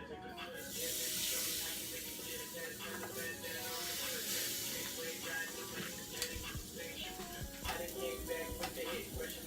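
Seasoned blackened honey chicken pieces sizzle steadily on a grill, a continuous close hiss with occasional pops and crackles throughout.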